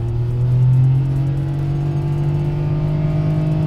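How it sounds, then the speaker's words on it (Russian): Daihatsu Mira e:S 4WD small engine revving hard under full throttle in sport mode, a loud steady drone with rising harmonics heard from inside the car while climbing to highway speed downhill, no talk. "Я думаю, всем слышно мотор."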